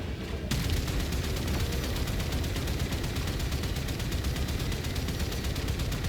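Multiple battery cannon turrets fire in the Warframe video game, a dense, continuous barrage of rapid booming shots that fills the scene at steady loudness after a brief quieter opening.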